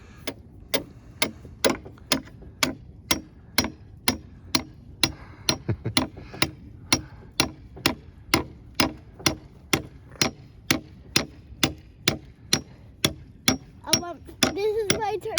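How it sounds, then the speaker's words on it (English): A hammer taps a part of a playhouse into place during a build, about two dozen sharp, evenly spaced close knocks in a steady rhythm, with faint voices near the end. "then you can use the hammer to tap it"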